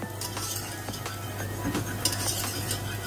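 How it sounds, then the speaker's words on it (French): Cheese béchamel sauce being stirred in a pan: a spoon scrapes and clinks against the metal in steady strokes over a soft background hiss and a low steady hum, fairly close and continuous. "Je mélange et j'éteins sur le feu."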